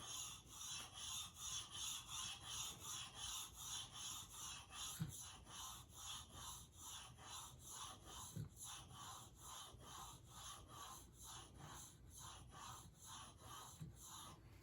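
A Veritas bevel-up jointer plane blade honed freehand on an 8000 grit diamond stone, about twenty quiet, rhythmic back-and-forth rubbing strokes at an even pace, close up and with no talking.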